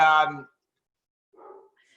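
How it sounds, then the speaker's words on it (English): A dog barks a short burst nearby while people talk at a town council meeting, the barking coming up once in the middle of a quiet stretch, with a faint tone at the end. "That's why my dog is going crazy."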